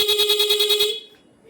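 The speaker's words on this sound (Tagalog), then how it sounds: "mayroon lang tayong nilagay na interrupter relay sa horn." A Yamaha Aerox V2 scooter horn fitted with an interrupter relay blares in a rapid pulsing beep-beep pattern, about nine quick loud bursts, then cuts off into near silence.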